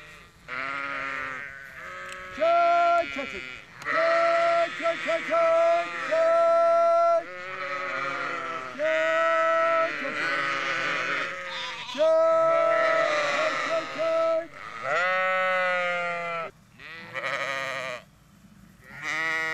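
Sheep and lambs bleat loudly and repeatedly, several overlapping calls rising and falling in a noisy chorus close by.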